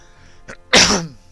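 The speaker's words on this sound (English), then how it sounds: "those sneezes killed me" A single loud, sharp sneeze bursts out close to the microphone right after a short intake of breath.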